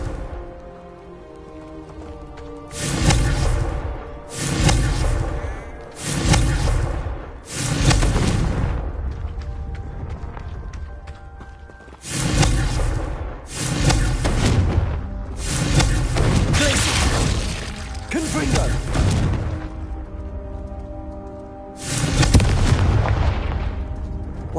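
Confringo explosive spell bursts in Hogwarts Legacy, a string of loud, booming blasts with crackling tails, coming in two clusters of rapid repeated impacts over twenty-odd seconds against a low game backdrop.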